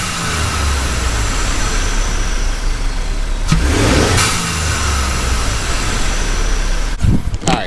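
2015 Ford F-150 EcoBoost with a vent-to-atmosphere mod, heard from outside the truck as a loud, steady engine drone with a brief rev swell midway and sharp whooshing releases near the end.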